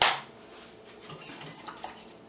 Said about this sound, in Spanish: Ya que estamos revolviendo